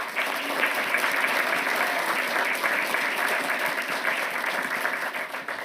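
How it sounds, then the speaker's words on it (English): An audience at a town council meeting gives a sustained round of applause to welcome a new assistant police chief. The clapping is loud, dense and steady for several seconds. "give him a warm round of applause"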